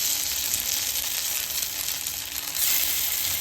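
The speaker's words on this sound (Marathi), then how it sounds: "इथे बघा आपले वडे जे आहेत ते किती कमी तेलामध्ये फ्राय होत आहेत" Stuffed sabudana vadas fry in a small amount of oil in a pan, giving a steady, close sizzle with a brief louder swell near the end, and no voices.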